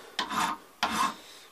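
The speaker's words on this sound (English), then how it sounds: "a bad habit I got into is filing both ways" Metal file drawn across a gun buttplate in two separate rasping strokes, close and fairly quiet, each a short scraping rub.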